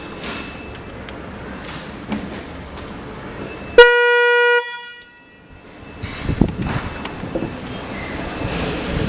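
A Stebel electric horn sounds its high tone in one sharp, brassy blast of under a second, loud and close. Murmuring background noise and a few soft thumps surround it.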